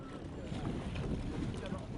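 Steady wind gusts across the microphone out on Lac d'Orient during a Surprise-class sailing regatta, a continuous broadband rush with faint water and boat noise underneath.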